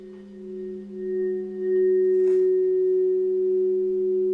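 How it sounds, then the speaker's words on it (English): An 11-inch Alchemy crystal singing bowl circled with a mallet rings out as a pure sustained tone, swelling in loudness and then holding steady, close and alone. "you can hear that they respond really, really well to being circled without chimed first"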